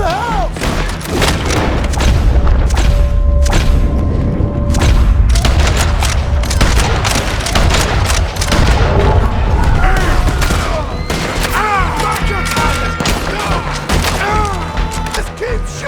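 Gunfire in a Red Dead Redemption shootout: loud, dense volleys of shots and booming thuds rattle on without pause, with shouting voices mixed into the chaos.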